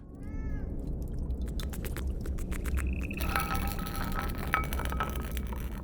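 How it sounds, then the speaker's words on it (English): Faint cat meows drift from a distance within a layered ambient soundtrack for an art installation evoking alleyways, set over a steady low rumble with brighter tonal textures entering partway through. "It has distant cats meowing."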